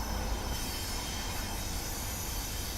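An SDP40F diesel locomotive in Train Simulator 2021 runs with a dense, steady rumble and rolling rail noise, loud and continuous through the short stretch with no talking.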